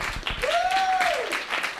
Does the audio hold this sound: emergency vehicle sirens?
no